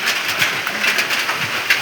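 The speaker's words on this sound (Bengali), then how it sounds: "ভাগ্য খারাপ হলে যা হয়, বৃষ্টি শুরু হয়ে গিয়েছে" Rain beginning to fall on an open jute field, a steady close hiss of drops with faint patter pulses and no voices.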